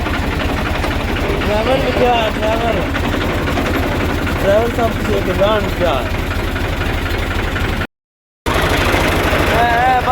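A tractor engine idles close by in a Pakistani village with a steady low, throbbing chug running under continuous talk throughout, broken by one brief cut near the end.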